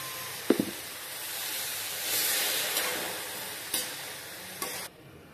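Spices fry in a pan with a soft, steady hissing sizzle, broken by a few sharp clinks of a utensil and a swell of steam near the middle.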